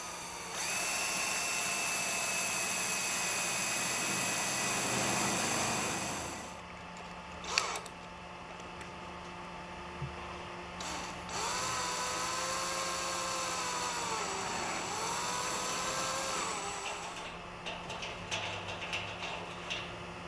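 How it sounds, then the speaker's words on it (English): A drill bores the front bracket holes with a letter D bit, running as a steady whine for several seconds, stopping briefly, then spinning up again with rising and falling pitch as it cuts, close and fairly loud with no talk. "Drill the front bracket holes with a letter D bit."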